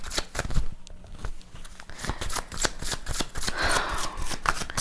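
Tarot cards are handled and straightened, producing a close, rapid run of papery flicks, riffles and slides that continue with brief pauses, louder rustling bursts toward the end.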